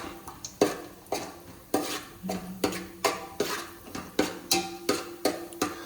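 Vermicelli is stirred and roasted in a pan until reddish, a spoon scraping and clanking against the metal in repeated rhythmic strokes, close and clear, with a faint sizzle beneath.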